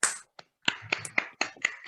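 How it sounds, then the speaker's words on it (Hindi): Several separate, sharp hand claps sound at an Amway sales seminar, spaced irregularly with short gaps between them, rather than a continuous round of applause. "इन दोनों के लिए पहले एक जोरदार ताली हो जाए"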